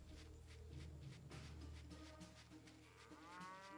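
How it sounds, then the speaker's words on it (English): Cattle moo in a World War II Normandy game, several low drawn-out calls in the first half over steady game ambience and music, loud and close, with no talk. "Cows."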